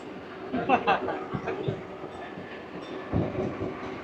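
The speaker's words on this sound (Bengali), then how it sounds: "কুড়ি কিলোমিটার পথ অতিক্রম করে এই মুহূর্তে আমাদের ট্রেন নিগনে" The new Katwa–Barddhaman local train rolls through Nigon railway station, giving a low rumble with clattering wheel knocks, moderately close.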